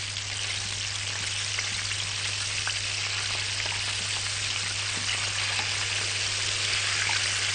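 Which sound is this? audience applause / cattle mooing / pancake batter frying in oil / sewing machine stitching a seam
pancake batter frying in oil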